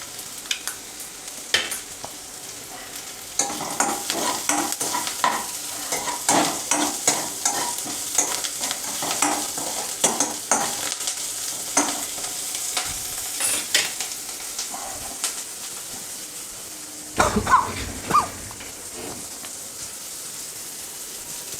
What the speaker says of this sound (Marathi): छान अशी मिरची भाजून घ्या.